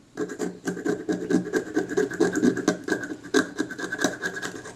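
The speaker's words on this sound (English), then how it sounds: "I'm just using the back of my scalpel blade to scrape off the big lumps" Back of a scalpel blade scraping lumps off a Kodak Retina IIIS camera part, a series of close, dry, gritty scratches in quick irregular strokes, fairly quiet and alone.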